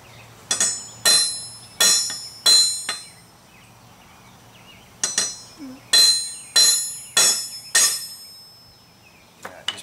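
Hammer strikes on a U-joint held at the edge of an anvil while tapping it into place on a Ford 515 sickle bar mower: two clusters of four sharp ringing metallic blows with short decays, near and loud, then a faint tap at the end.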